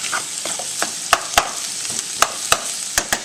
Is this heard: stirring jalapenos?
yes